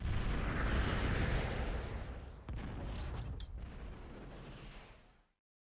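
Weapons firing at a laser turret in the real-time strategy game Total Annihilation: a dense roaring barrage of blasts and rumbling explosions that continues steadily, then fades out at the end.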